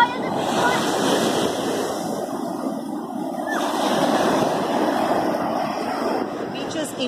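Surf rolls onto the beach at Pantai Ngudel in Indonesia, a continuous washing roar of breaking waves mixed with wind buffeting the microphone, steady and fairly loud from start to finish.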